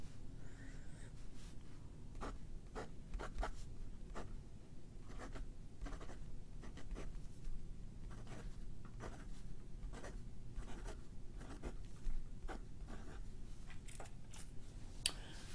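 Pilot Custom Heritage 92 fountain pen with a fine nib writing on paper, faint close scratchy strokes in short irregular bursts with soft breathing in a quiet room.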